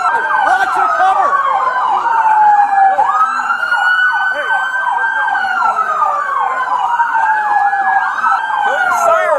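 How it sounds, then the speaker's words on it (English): Several police emergency vehicles run their sirens at a highway scene after a shootout, with overlapping wailing and yelping tones that are loud and continuous throughout. "Kill your sirens."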